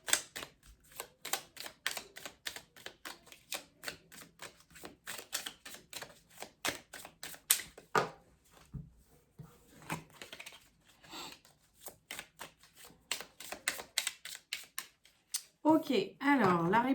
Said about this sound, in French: pendant que je bats les cartes